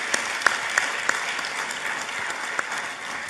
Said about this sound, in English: give him a standing ovation and more applause